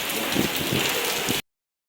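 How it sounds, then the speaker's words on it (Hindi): Heavy rain pouring steadily during a downpour, a dense close roar that runs for about a second and a half before cutting off abruptly into silence. "देखो इतनी तेज़ बारिश हो रही है,"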